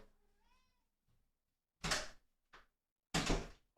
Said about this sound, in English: Let me just open the door because Cloudy's fucking meowing